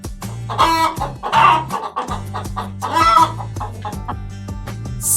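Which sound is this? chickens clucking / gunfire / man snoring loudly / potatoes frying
chickens clucking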